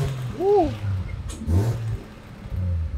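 A car engine fitted with a Haltech Elite 2500T ECU revs in short bursts, its pitch rising and falling a few times over a low idle rumble.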